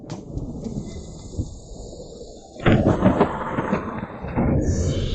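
Thunder comes as a low rumbling roll that swells partway through into a heavier crashing boom, loud and close, likely within a dramatized storm scene, with no speech.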